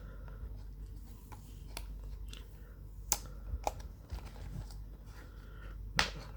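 Crinkly plastic and cardboard packaging of a Yu-Gi-Oh Rise of the Blue Eyes structure deck being handled and opened, with sparse close clicks, taps and rustles in a quiet room.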